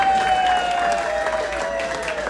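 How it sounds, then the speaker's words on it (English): A wedding reception audience gives a round of applause, dense steady clapping throughout with a faint crowd murmur and a high sustained tone under it. "Give yourselves a round of"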